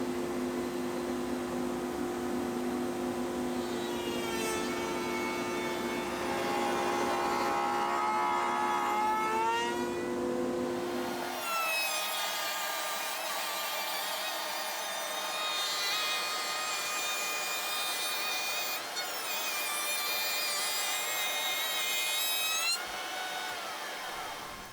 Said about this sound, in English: get it over to the router table, and start cutting those flutes